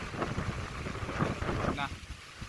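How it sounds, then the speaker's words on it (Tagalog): Strong wind buffets a small wooden boat out on the water, a steady rushing roar with microphone wind noise, and voices speak over it. "Napakalakas ang hangin."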